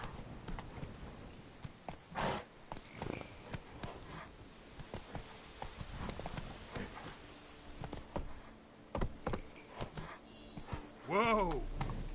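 Hooves of the horse Roach in The Witcher 3 clip-clopping at a steady pace, distinct close strikes on the ground, with a voice speaking and a whinny near the end.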